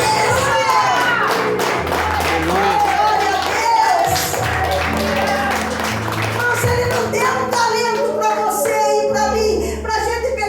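Church congregation applauding during a service, steady dense clapping mixed with music and voices throughout, loud and continuous.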